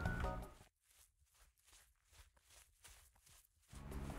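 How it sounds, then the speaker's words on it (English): Modified footsteps in a Roblox game: about eight soft, evenly spaced steps in quick succession, faint and close, between short bursts of low background noise at the start and end. "you can see my footstep sound is actually different than a normal default"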